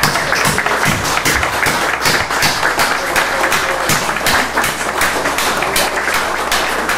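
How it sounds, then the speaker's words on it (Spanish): Applause honors mothers at a presidential press conference in Mexico, loud, sustained clapping from a roomful of people with crisp individual claps up close, continuing for several seconds. "Vamos a brindar un aplauso a las madres"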